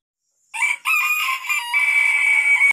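Free-range village chickens: a single loud rooster crow close by, drawn out for about two seconds, broken by a brief pause, with hints of clucking and no voices.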